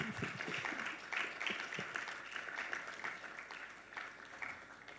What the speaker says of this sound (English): Let's give him a round of applause. And keep applauding him